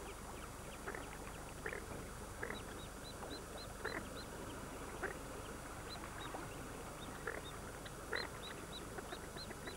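Goldeneye duck with ducklings on a lake, giving short repeated high calls and peeps scattered across a steady outdoor wash, fairly distant and moderate in level, with no voices.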